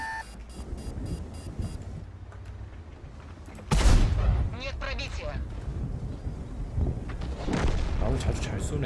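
Self-propelled artillery firing in World of Tanks: one heavy, booming in-game shot with a deep rumbling tail stands out midway, among lighter battle noise, while players talk over it.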